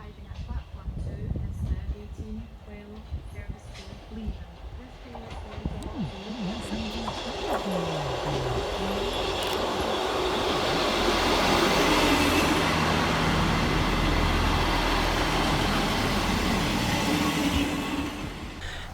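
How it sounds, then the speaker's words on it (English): A ScotRail Class 158 diesel multiple unit pulls into North Queensferry station on the Fife Circle, rumbling louder as it nears, with wheel squeal and clattering over the rails. An announcer's voice is heard early on. "Next arriving at the station is 158-732, working the 1812 Scotrail service from Edinburgh Waverley through to Leven."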